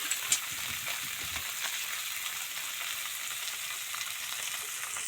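Koi and shing fish frying in a pan, a steady broad sizzle of hot oil with a few brief pops and stirring sounds, close and continuous with no talking.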